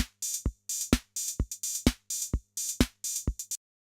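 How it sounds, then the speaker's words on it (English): Looping drum machine beat, an early MIDI-clock era unit, with crisp hi-hat or snare bursts alternating with deep kick thumps in a steady even pattern, close and clean with no talking. "So the drum machine sounds like this."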